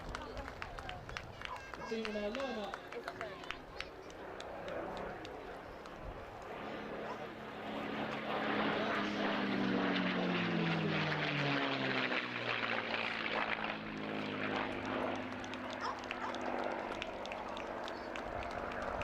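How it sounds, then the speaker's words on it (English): A P-51 Mustang flies past at the D-Day 80 airshow, its propeller engine rising to a broad roar and then fading, with a whistle from wind through the gun ports, heard at a distance under crowd noise and speech. "it's the sound of the wind whistling through the gun ports"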